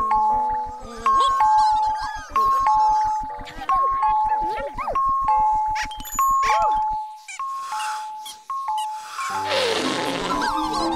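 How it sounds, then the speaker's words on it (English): Ding-dong alarm chime from the children's show In the Night Garden, a bright repeating two-tone bell pattern ringing loudly over a plucked musical backing, ending in a burst of clattering noise. "It's the ding dong alarm."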